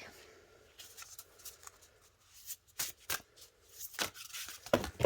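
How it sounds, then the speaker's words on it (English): A deck of tarot-style cards being shuffled and a card drawn, with soft riffling and several sharp papery snaps and flicks, close and fairly quiet, the last burst loudest near the end. "So let's pull one more card from this deck."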